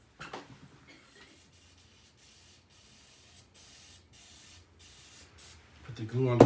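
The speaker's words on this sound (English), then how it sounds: "I'm going to use this 3M spray." A 3M aerosol spray can sprays in a series of short hissing bursts with brief pauses between them, close up and fairly quiet, while painting fishing jig heads.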